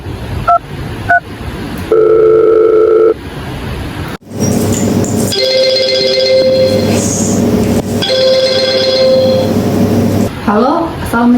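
A telephone call being placed, with a steady tone and short electronic beeps interrupting a conversation between people, close and clear.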